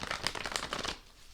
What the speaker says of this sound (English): I shuffle a little bit more